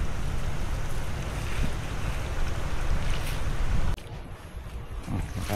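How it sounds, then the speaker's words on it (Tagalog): Strong wind roars steadily, buffeting the microphone with heavy low rumble, then drops slightly quieter toward the end. "lakas ng hangin"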